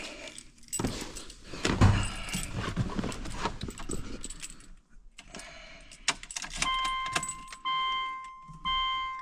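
Car keys jangle and clink as they are handled near a vehicle during wiper motor troubleshooting, followed by steady electronic chimes and a motor-like hum that build toward the end.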